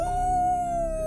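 A cartoon dog howls in one long, steady, sustained note that holds level for about a second, loud and alone over a dense musical background.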